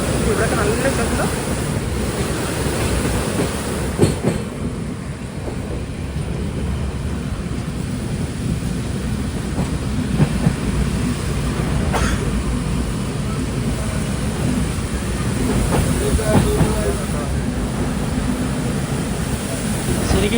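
The Saraighat Express crosses the long rail-cum-road bridge over the Ganga, a continuous loud rumbling roar mixed with wind buffeting the microphone, with faint voices beneath.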